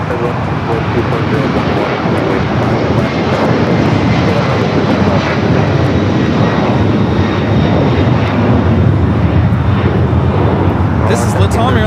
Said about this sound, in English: This is Latam Airlines 2479 taking off to Lima, Peru on the 767-300ER.